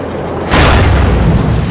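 A tank cannon fires in the online game Armored Warfare: a sudden loud boom after a quiet moment, followed by a rumbling, sustained explosion tail.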